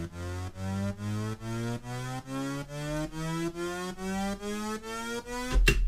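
Sawtooth riser built in FL Studio's 3x Osc synth with Kickstart sidechain ducking, a rising tone pumping in steady rhythmic pulses about twice per second, ending in a low thump.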